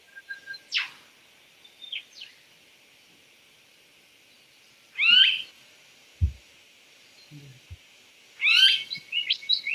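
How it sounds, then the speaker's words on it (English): Bird chirps ring out from a distance, scattered and intermittent, against near silence with a few soft low thumps. "I'm loving that bird noise in the background"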